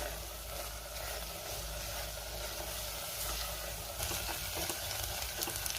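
Spice powders for chole masala are stirred and sautéed in a pan, making a faint, continuous sizzle with soft scraping stirs throughout.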